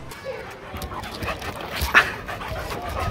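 A dog pants nearby with quick breathy huffs and a small whimper, while people talk faintly in the background.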